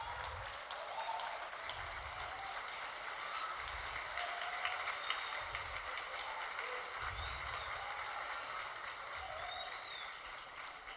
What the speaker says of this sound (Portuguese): Uma salva de palmas, queridos.